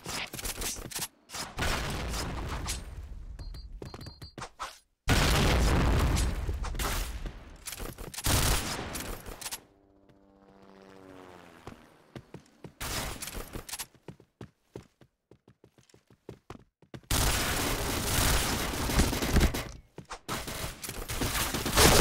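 Bursts of rapid gunfire from a Point Blank online shooter match arrive in loud, dense volleys broken by short quiet gaps, with footsteps and lighter shots heard between them.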